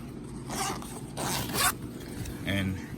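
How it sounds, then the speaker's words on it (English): A zipper on a Ridgid heated jacket is pulled in several quick rasping strokes, close and crisp, with short pauses between pulls. "And you unzip it."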